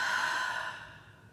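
A single breath pushed out through the mouth, a soft breathy sigh that starts fairly full and trails away over about a second, close and alone without any talking.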